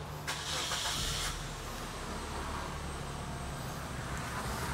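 A 2014 Suzuki Ertiga GX engine cranks with a brief whirring burst, then settles into a steady low idle rumble with faint background hiss.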